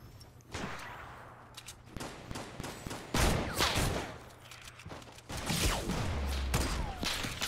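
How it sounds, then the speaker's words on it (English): Gunfire from another team in Fortnite, a rapid burst of cracking shots followed by more scattered volleys and heavy impacts, loud and close, with brief bursts that return a few times. "I got another team shooting at me."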